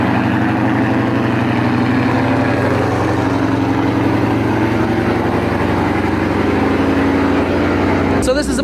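A car engine idling a few minutes after startup, a steady low rumble held close and loud throughout, with no change in pace until a brief click near the end.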